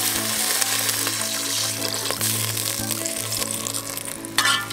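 Water poured into hot oil in a pan while cooking chicken curry with chana dal, producing a dense continuous sizzle with a low steady hum beneath and a brief louder hiss at the end.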